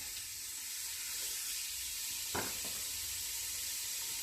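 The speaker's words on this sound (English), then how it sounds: "Oh yeah, got a sear going." Meat sears in a hot pan, giving a continuous soft sizzle and hiss with a brief louder crackle midway, heard alone without talk.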